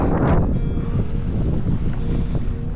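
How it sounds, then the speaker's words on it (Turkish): Strong wind over the ocean roars and buffets the microphone continuously, with a low rumble and gusty surges throughout, loud and close. "çok rüzgar çıktı"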